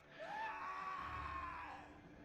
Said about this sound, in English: a scream echoes from the hallway